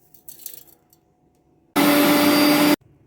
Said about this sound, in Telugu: కొద్దిగా ఉప్పు వేసుకొని మిక్సీ పట్టేసుకోవాలి.